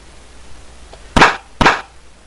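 Magic missile spell cast in the retro computer game Treasures of the Savage Frontier: two sharp, bright zapping bursts in quick succession, loud and alone over a faint background hiss.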